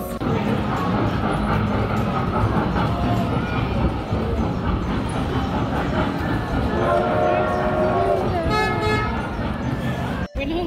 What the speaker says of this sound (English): There's a train that takes you to places for kids.